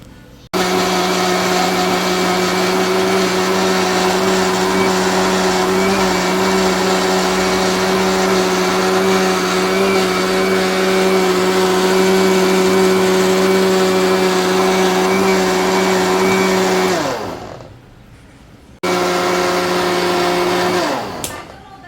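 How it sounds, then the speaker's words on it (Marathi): A mixer grinder whirs loudly and steadily at high speed grinding a paste, then cuts off briefly and starts again before stopping near the end. "आता याला आपण मिक्सरमध्ये काढून घेऊया"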